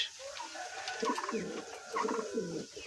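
King pigeons on a pigeon farm coo in soft, overlapping murmurs, a low continuous burble of several birds close by.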